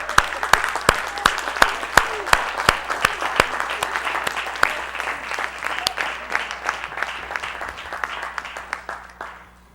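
A small congregation at a synagogue livestream claps for Mr. Hugh, with sharp, separate hand claps at an uneven rhythm that thin out and fade toward the end.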